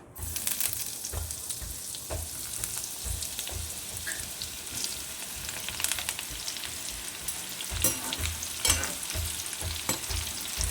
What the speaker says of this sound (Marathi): तेल तापलेलं आहे तर त्याच्यामध्ये मी हे मसाला घालून पूर्ण केलेले, सोयाबीन हे घालते हे थोडे थोडे घालायचे त्याच्यामध्ये तळायला